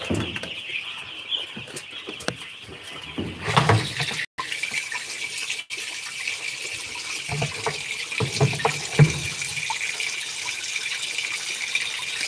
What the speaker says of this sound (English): I'm putting in water for their day's medication